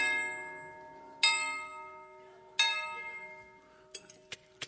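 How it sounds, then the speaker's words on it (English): A doorbell at a front door sounds in clear separate chimes, two strong rings with long decaying tones followed by a few quicker, fainter strikes, with no talk over it. "I walked up to the front door and I rang the bell"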